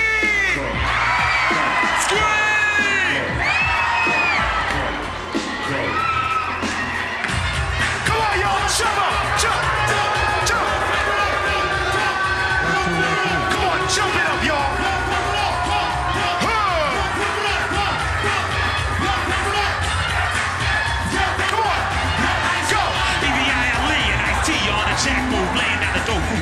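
A rap concert crowd screams and cheers loudly and continuously, with whoops and shouting voices blending into a sustained roar across the whole stretch.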